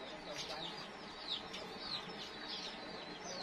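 Chickens cluck repeatedly in a rural farm setting, with short bright calls recurring every half second or so over a steady background hiss.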